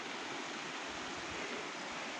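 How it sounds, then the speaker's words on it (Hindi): A mountain waterfall stream near Bhim Dwar on the Shrikhand Kailash trek rushes in a dense, steady roar of falling water, loud and unbroken throughout. "अपने आप पानी निकल रहा है और झरना बन के बह रहा है।"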